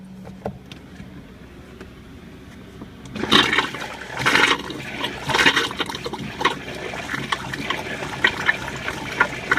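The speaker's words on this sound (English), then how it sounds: "I hear water coming through." Water rushing through a newly replaced toilet in a small R-Pod RV travel trailer, starting as a loud gurgling flush partway through and continuing as uneven splashing and trickling, close by over a fan's steady hum.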